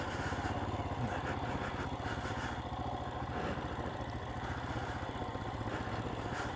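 A Royal Enfield Himalayan 411 motorcycle engine braking downhill off-road, a steady low, throbbing engine beat with mechanical clatter that holds at an even, fairly loud level throughout, with no talk.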